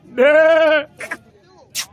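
A young male goat at a Bakra Eid livestock market gives one loud, drawn-out bleat up close. Brief voices and other market sounds follow.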